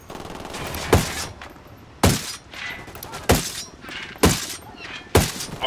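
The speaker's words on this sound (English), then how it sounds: "I'm opening fire." Gunfire in the Ghost Recon Wildlands video game, five sharp loud shots spaced roughly a second apart, each with a short ringing tail over a quiet background.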